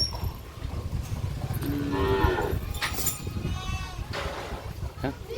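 One loud moo from cows in a Gujarati village rises near the middle, followed by fainter bleat-like calls, over steady outdoor background noise and some talking.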